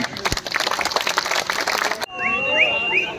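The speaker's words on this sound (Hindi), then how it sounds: "इसके लिए एक बार प्लीज आप तालियां बजा दीजिए" Dense audience applause at a Hindi hasya kavi comedic poetry event at Deshbandhu College fills the first two seconds, then cuts abruptly to quieter tonal, whistle-like sounds.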